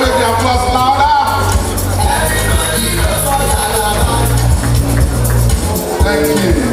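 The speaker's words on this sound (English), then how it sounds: "Please can we make the applause louder?" An audience at a Nigerian state event applauds and cheers for President Bola Tinubu, a dense, continuous wash of clapping and shouts mixed with loud music, steady throughout.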